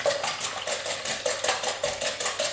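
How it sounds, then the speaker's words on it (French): Eggs are beaten in a bowl for a tortilla con cebolla, the whisk or fork clinking against the sides in quick, regular strokes close at hand. "donc on a nos œufs, on va les battre"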